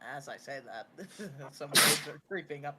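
One loud, sharp sneeze bursts out midway through steady conversation during live hurricane coverage, with people talking before and after it.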